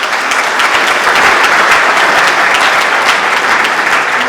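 Hearty round of applause for Nathan Hoffman at a medical network launch event, a dense, steady wash of clapping from a large audience, loud and sustained throughout without voices.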